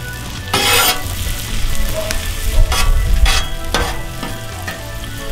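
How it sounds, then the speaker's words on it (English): Onions frying in a pan for quesadillas, a steady sizzle throughout with bursts of stirring and scraping, close and fairly loud with no talk. "We're going to cook these till the onions are translucent"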